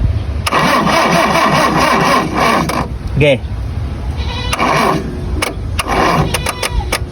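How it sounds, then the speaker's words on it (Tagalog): A hard-starting motorcycle engine cranks and catches in loud, rough bursts, sputtering unevenly close by while people talk over it. "Hard starting."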